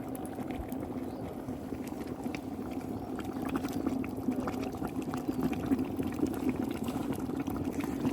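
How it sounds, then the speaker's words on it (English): A steady bubbling, fizzing hiss of a grout chemical reaction boiling water, churning like water boiling vigorously, continues without voices. "It's boiling the water is what it's doing."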